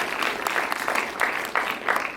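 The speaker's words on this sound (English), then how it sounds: "can we get a round of applause for Sukhman?" Audience at a movie premiere clapping for Sukhman, a short burst of moderately loud applause with distinct individual claps and a few cheers, close and lively for about two seconds.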